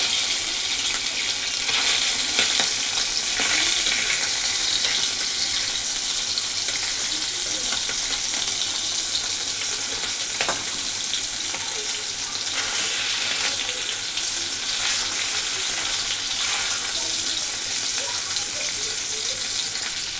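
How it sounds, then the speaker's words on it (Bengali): Fish fry in hot oil with a steady, dense sizzling hiss that continues unbroken, with occasional faint clinks and crackles in a home kitchen. "তো ওখানে মাছ ভাজা হচ্ছে"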